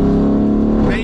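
A Mansory Venatus Lamborghini Urus gives a loud, sustained exhaust drone with steady harmonic layers while downshifting, the pitch shifting near the end as revs change.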